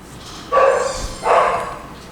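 Dogs bark indoors, two loud barks spaced about a second apart, sharp and near, with no talking over them.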